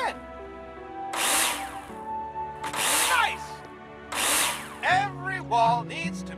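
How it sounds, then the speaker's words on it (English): A power drill drives screws into plasterboard in Builder Simulator, three loud whirring bursts each rising in pitch, followed by quicker short spins, close and clear with a steady background tone. "After installing the plasterboard, you need to use screws to attach it. Take your drill out and screw them in."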